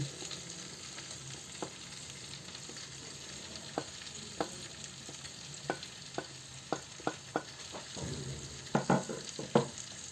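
Chicken kabsa biryani with fried raisins and nuts gets stirred in a pot, a steady low hiss broken by a series of sharp spoon scrapes and clacks that grow busier toward the end, with no voices.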